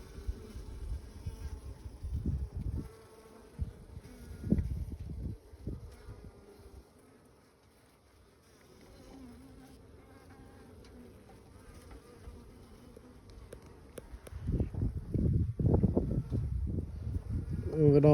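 Bees buzz around an open beehive during a frame-by-frame inspection, a faint drifting drone with louder swells as insects pass close, mixed with handling noises and quiet background sounds.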